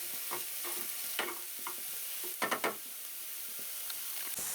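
A wooden spoon stirs onions in a new Teflon frying pan over a soft sizzle, with scattered scraping strokes and a quick cluster of knocks near the middle.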